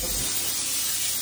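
A Platinum steam generator releases a strong, continuous steam jet without a nozzle attached, a loud steady hiss filling the whole short moment with no break.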